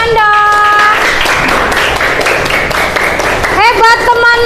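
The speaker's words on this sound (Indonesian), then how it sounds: "Kasih tepuk tangan dong" A primary school class applauds a classmate after a presentation, a steady wash of many small hands clapping together, loud and close, with children's voices and a tonal sing-song sound at the start and end.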